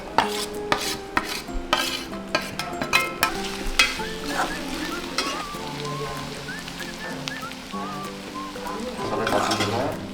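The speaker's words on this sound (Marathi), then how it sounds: "भुजिया टाकतो त्याच्यात फ्राय करायचं तेलावर शिजवायचं आहे" Bihari bhujia is cooked in oil, with a steady sizzle, spoon clatter and scraping against the pot through the first seconds. Faint tonal voices or music continue in the background throughout.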